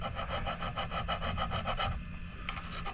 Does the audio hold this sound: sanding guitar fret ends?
yes